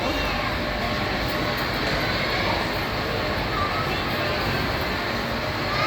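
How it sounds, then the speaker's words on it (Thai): A steady rolling rumble of a small passenger ride train in motion inside Central Bangna shopping mall, with a continuous mechanical hum and faint background chatter. "ไปแล้วขบวนมาแล้วรถไฟพาไปเที่ยวแล้ว"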